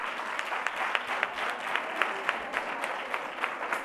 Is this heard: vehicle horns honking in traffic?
no